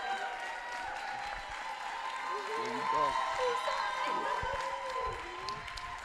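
An audience at an arts awards ceremony applauds and cheers as Lauren Anderson comes to the stage. Sustained crowd clapping mixes with cheering voices, a steady wash of sound that swells midway.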